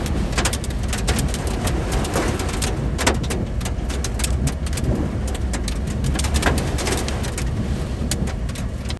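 Heavy storm with hail and high winds in Oklahoma, a dense, steady roar of wind and pelting hail with scattered sharp impacts, loud and continuous throughout.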